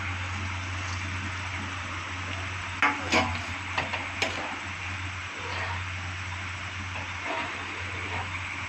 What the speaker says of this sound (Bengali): ঝোলটা ফুটে গেছে, এখন আমি মাছটা যে ফ্রাই করে রেখেছিলাম সেটা দিয়ে দিচ্ছি।